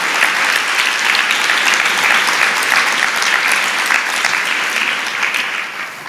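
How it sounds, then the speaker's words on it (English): An audience at an Evergreen orientation welcome night gives the organizers a loud, steady round of applause that holds for about six seconds and then begins to taper. "Can we give them a round of applause?"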